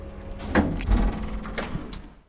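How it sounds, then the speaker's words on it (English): The door of an old Kone traction elevator in a building in Jyväskylä is dragged open by hand, giving scraping, rumbling slides and a couple of clunks, close and moderately loud with no talking. "This was meant to be locked off with an interval, but we dragged the door open."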